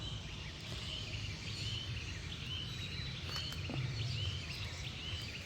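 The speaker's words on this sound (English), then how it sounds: "It's really nice to listen those bird." Birds sing and chirp outdoors on a morning, faint scattered high twittering calls over a low steady background rumble, no voices.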